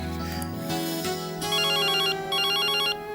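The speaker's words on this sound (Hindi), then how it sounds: "फोन बज रहा है" A phone ringtone rings in a quiet room: a melodic electronic tune that plays in short repeating bursts, clear and fairly close, with no talk over it.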